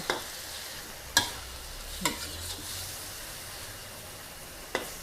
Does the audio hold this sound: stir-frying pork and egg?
yes